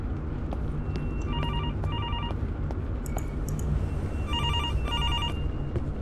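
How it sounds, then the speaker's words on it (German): Telephone bell ringing in the horror video game Infliction, sounding in repeated double rings, moderately loud over a low, steady ambient drone. "Das Telefon klingelt, okay."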